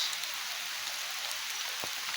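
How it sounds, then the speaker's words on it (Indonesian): Heavy rain falls steadily on a solo campsite with a tent, a constant dense hiss of drops close around with occasional louder splashes, no talk. "Masih hujan guys, sampai deras sekali."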